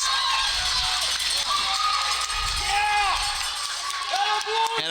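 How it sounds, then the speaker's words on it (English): A hockey arena crowd roars and cheers right after a goal, a loud, sustained wash of voices with a commentator talking over it throughout. "And the crowd erupts."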